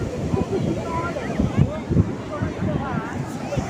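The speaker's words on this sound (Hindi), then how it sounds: "कितनी भयानक लहरें आ रही हैं।" Strong ocean waves break along the crowded beach at Puri, a steady roar with wind rumble on the microphone and surges of surf, while people talk and shout in the background.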